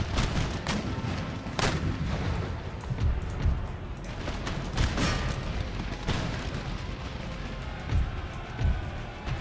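Black-powder artillery keeps firing across a Napoleonic-era battlefield in Empire: Total War, with dense, overlapping booms and cracks, some near and some far, over a constant rumble of battle.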